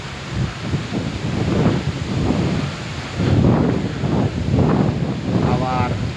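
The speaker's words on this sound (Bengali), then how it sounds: "বাতাস ঘন্টায় প্রায় পঞ্চাশ কিলোমিটারে কম হবে না পঞ্চাশ ষাট কিলোমিটার বেগে বাতাস" A strong wind and rain storm over the Bay of Bengal roars loudly into the microphone in rushing gusts with a continuous hiss of rain, while someone talks under the din.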